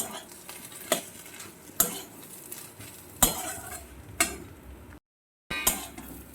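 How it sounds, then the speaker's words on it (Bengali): A spoon scrapes and stirs chana masala into simmering dal in a pot, with four or five distinct clanking strokes over a soft sizzle and a brief silent gap near the end. "একটু নাড়িয়ে চাড়িয়ে নিচ্ছি চানা মশলাটা দিয়ে"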